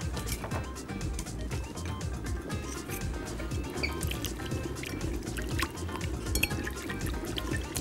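Shrimp marinade of salt and pepper being mixed by hand in a bowl, with a continuous soft wet sloshing and squelching close by, steady throughout with small clicks, no talking.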